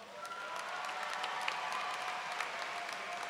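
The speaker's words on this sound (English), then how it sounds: "Please give them a round of applause" A commencement ceremony audience gives a round of applause, a steady, fairly distant wash of many hands clapping with a few sharper claps standing out.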